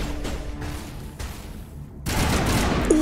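Gunfire in the game Mass Effect: bursts of rapid shots, loud and close, with a short lull before a denser volley at the end.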